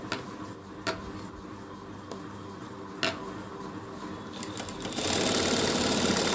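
A sewing machine runs steadily while stitching the tip of a garment sleeve, with a close mechanical whir, scattered ticks and clacks, and a louder, faster burst of stitching near the end.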